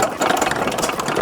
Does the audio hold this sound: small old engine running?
yes